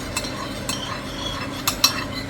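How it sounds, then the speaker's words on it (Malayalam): A spoon scrapes and taps through egg and beetroot rice in a pan, a few distinct close clinks spaced over a soft frying hiss, no voices. "അത് ഇളക്കിനി നോക്കട്ടെ"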